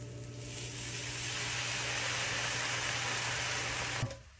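Chopped bacon, onions and garlic hiss and sizzle steadily in a hot pan as white wine goes in, a close, continuous frying crackle that ends with a short clatter.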